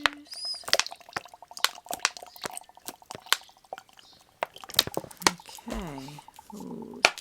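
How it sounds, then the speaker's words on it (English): Water is poured into a crumbly earth mixture inside a container, giving close, scattered drips, trickles and small plops, then a brief bubbling gurgle near the end. "now I'm going to mix in some water"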